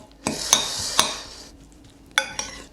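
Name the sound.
stirring Buldak Bokkeum Myun noodles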